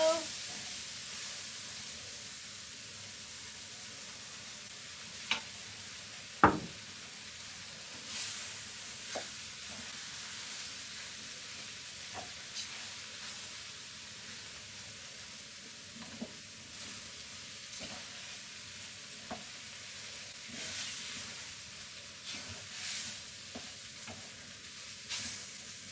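Vegetarian paella sizzles and fries in a pan while broth is poured in, a steady soft hiss with occasional clinks and stirring knocks, fairly quiet throughout.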